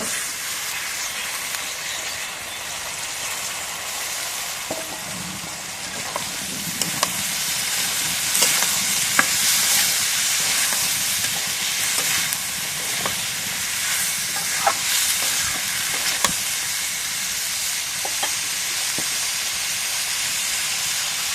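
Cumin and cut potatoes fry in a pan on a clay stove, giving a steady loud sizzle and hiss with occasional scraping and stirring clicks throughout.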